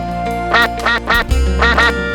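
Cartoon ducks at a pond quack loudly, roughly six nasal calls in quick, uneven bursts over a steady musical bed.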